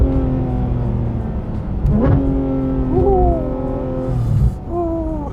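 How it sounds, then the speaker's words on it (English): Porsche 992 GT3 RS engine in a moving car, heard from inside as a loud continuous droning roar with rising and falling pitch as it blips through downshifts, without speech. "these downshifts are just brutal"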